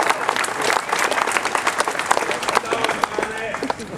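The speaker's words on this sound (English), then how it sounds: "Let's have a cheer for that" A protest crowd at an anti-shark-cull rally in Adelaide applauds and cheers steadily. The dense clapping from many people carries on throughout, with voices shouting and talking inside the noise.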